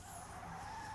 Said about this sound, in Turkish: Fren geldi.